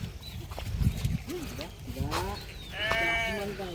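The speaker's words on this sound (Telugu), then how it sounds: "ఇది గొర్రెల మంద" Sheep and goats grazing in a green rural area near Utnoor give a few short, wavering bleats, moderately close, amid low background noise and rustling.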